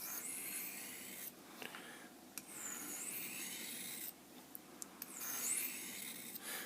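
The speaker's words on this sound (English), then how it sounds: "Give it a few passes on the stone." A Victorinox Cadet kitchen knife is drawn across a whetstone in a few faint, close rasping passes, soft scraping strokes with brief pauses between them and no talking.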